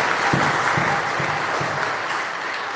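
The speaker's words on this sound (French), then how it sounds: "Applaudissons pour Jésus." A congregation at a Catholic Mass on the Feast of the Ascension applauds in a reverberant church, a steady wash of clapping with a few louder individual claps at a moderate distance.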